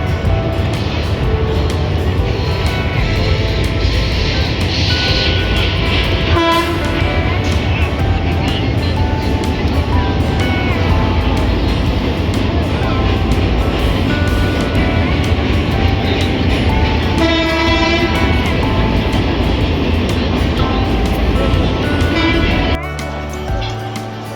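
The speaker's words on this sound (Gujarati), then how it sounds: "છુક છુક છુક છુક કરતી ટ્રેન નીકળી." A train rolls past at the Kumbh Mela near the Ganga confluence, a loud, continuous rumble lasting over twenty seconds with voices mixed in.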